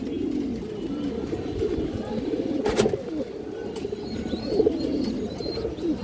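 Indian high-flyer pigeons coo softly in a loft, low repeated throaty calls under a bed of background noise, with a sharp brief clatter midway.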